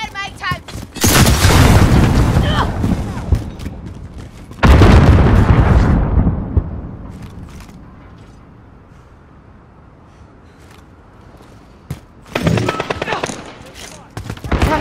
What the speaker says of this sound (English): What is all the explosions about?